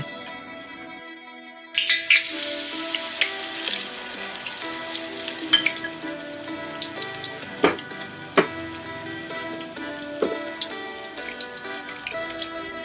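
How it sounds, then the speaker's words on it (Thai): Vigorous sizzling of battered water spinach deep frying in very hot oil, starting abruptly after a quiet moment, with crackles and pops, close up. "การทอดผักบุ้งทอดให้เหลืองทีละด้านค่ะ"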